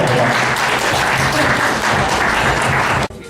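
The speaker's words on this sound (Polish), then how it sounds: "Raz jeszcze, duży brawa." A large audience at a children's pageant final applauds loudly and steadily for about three seconds before the clapping cuts off abruptly.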